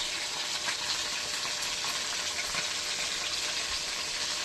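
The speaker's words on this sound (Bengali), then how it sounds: "লাল করে ভেজে নেব" Tangra fish frying in oil in a pan, a continuous bright sizzle and crackle holding steady and fairly close throughout, with no talking.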